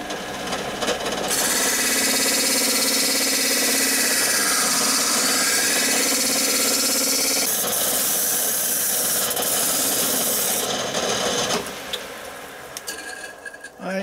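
Power tool profiling the doweled wooden edges of a Gauge 1 garden railway model carriage, a loud steady whine and rasp held for about ten seconds before it stops and winds down.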